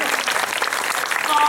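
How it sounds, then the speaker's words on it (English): Brief burst of audience applause for a lead trumpet player at a singing competition, dense steady clapping with a voice speaking over it. "can we give a round of applause for the lead trumpet here this evening?"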